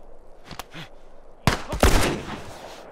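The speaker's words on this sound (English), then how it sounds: "Shooting at me?" Gunfire in The Last of Us video game: a couple of faint distant shots early, then a sudden loud close burst of several sharp shots with rolling echo, fading out.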